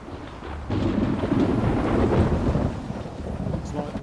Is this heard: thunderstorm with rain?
yes